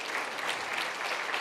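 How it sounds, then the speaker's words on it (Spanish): Church congregation applauding during a sermon, a brief wash of steady clapping at moderate distance with no voices on top. "Demos un aplauso si quiere al Señor"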